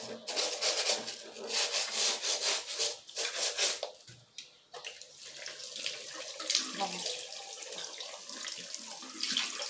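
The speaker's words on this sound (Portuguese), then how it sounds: "Pra lavar, eu utilizo só o sabão em pedra mesmo" A shoe is scrubbed with bar soap under a running tap, with loud rhythmic rubbing and rasping strokes over steady splashing water, close up, with brief talk in between.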